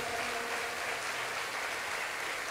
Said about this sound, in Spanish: te honramos a ti con este aplauso